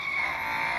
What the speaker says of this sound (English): a little bit more skidding this time around